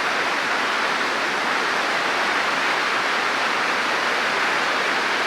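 Steady, broadband rush of a waterfall at the Hermitage, Dunkeld, a constant full roar of falling and splashing water with no breaks or voices.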